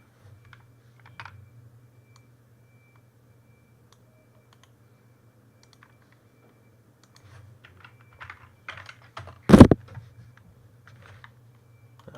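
A cat walks across a computer keyboard, producing scattered faint key clicks that build to one loud, sharp clack near the end, over a low steady hum in a quiet room.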